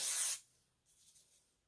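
A sharp burst of hair product spray, applied to a parted section of hair, hisses for a split second, followed by a fainter, softer hiss trailing off.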